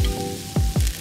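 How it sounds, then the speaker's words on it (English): Venison seared in a hot pan with grapeseed oil and basted in butter, giving a close, steady sizzle with two brief louder bursts of spatter near the end. "We started off by searing our venison in a hot pan in some grapeseed oil"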